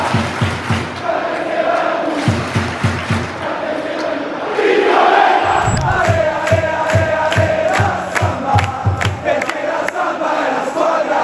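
San Benedettese football supporters chant and roar together in the stands, a dense, loud crowd with rhythmic claps or drum-like thumps driving the chant throughout.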